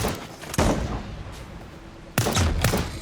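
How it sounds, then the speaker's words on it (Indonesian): A shotgun fires in the video game Lost Skies, two loud, close blasts about one and a half seconds apart, each with a short decaying tail, and no talking. "Udah langsung kayak 3 peluru keluar gitu loh. Kayak shotgun banget."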